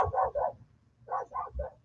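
A dog barks in two quick bursts, pauses, then lets out three more, moderately loud and fairly close with no one talking.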